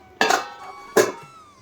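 Two sharp metallic clanks about a second apart, a lid set onto a pot, each with a brief ringing tail, close and fairly loud.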